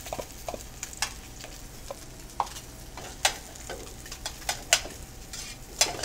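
Braised sunchokes and cooked fennel warm together in a saute pan, giving a soft steady sizzle broken by irregular light clicks and taps of stirring, with no talk.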